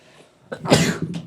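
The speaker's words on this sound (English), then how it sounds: "I've never sneezed on the podcast before." A single loud, sharp sneeze bursts out close up after a brief intake of breath, with no talking.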